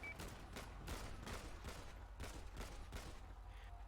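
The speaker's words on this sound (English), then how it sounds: "Automatic gunfire" Rapid bursts of automatic gunfire crackle steadily over several seconds in a video game firefight, repeated volleys at a moderate distance with no talking.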